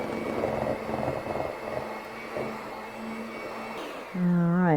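An electric mixer whirs steadily while mixing key lime cupcake frosting with powdered sugar and key lime juice, a close motor hum that shifts in pitch and then rises sharply to a louder whine near the end.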